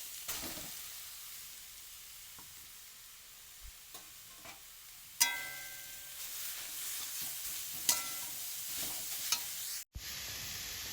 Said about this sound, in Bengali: ঘিটা আমার গরম হয়ে গেছে দেখো, এবার আমি গাজরটা দিয়ে দেব।